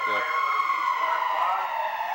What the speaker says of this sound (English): that was an ambulance that just left here